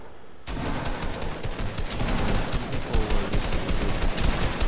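Rapid gunfire in the Fortnite video game, with dense bursts of overlapping shots rattling loud and continuous after a brief quiet start.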